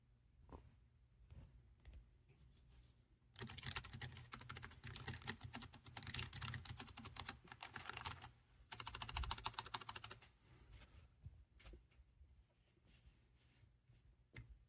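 Fingers type on a ProtoArc XK01 foldable Bluetooth keyboard with touchpad, a close run of quick, light key clicks in bursts with short pauses, quiet background.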